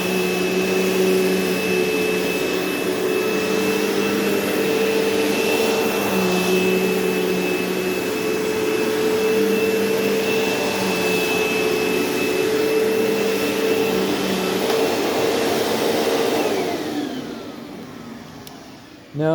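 A 2008 Eureka Maxima 4700B bagless upright vacuum cleaner runs steadily and loudly at close range with a constant motor whine, then winds down near the end.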